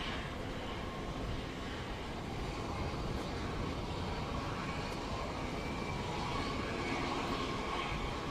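A Saab SK60 jet arriving at an air show, a steady, distant roar of jet engine noise holding at an even level throughout.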